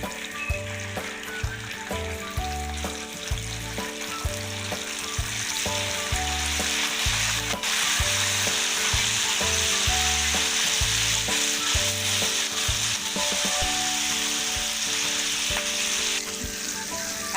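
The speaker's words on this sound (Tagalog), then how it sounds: "Susunod nating iprito yung Baguio beans." Baguio beans frying in hot oil in a pan, a steady loud sizzle that holds for the whole stretch with some crackle and occasional stirring, heard up close with no voices.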